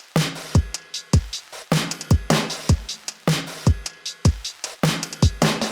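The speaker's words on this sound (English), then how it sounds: "Drum body is essentially just like kicks and snares" Electronic drum loop of punchy kicks and sharp snares from a game soundtrack breakdown, hitting in a steady repeating pattern, loud and close, with no voices.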